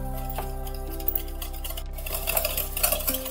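Yogurt and sugar being whisked in a bowl, a steady run of soft utensil clicks and scrapes against the bowl, close and continuous under a low background hum.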